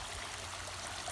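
Rainwater flowing in a stream behind a rural property, a steady, full rushing and babbling wash that holds constant throughout, fairly loud and close, with no voices.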